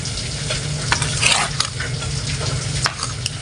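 Leftover milkfish dish fries in a pan with a continuous crackling sizzle, close and fairly loud, while occasional stirring scrapes break through and no one speaks.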